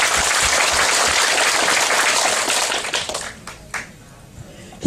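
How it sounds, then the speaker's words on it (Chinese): Audience applause at a business opportunity presentation: dense, loud clapping fills the first three seconds, then thins out and fades into scattered claps. "掌声鼓励。"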